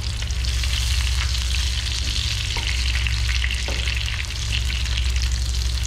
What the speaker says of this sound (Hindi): बटर मेल्ट हो चुके हैं, मैं इसमें थोड़ा सा प्याज डालती हूँ